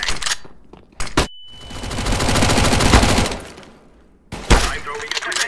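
A flashbang grenade in Counter-Strike: Global Offensive bursts loudly with a sustained ringing blast lasting a couple of seconds, framed by clicks, thumps and short noisy bursts before and after.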